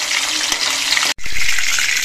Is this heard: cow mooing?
no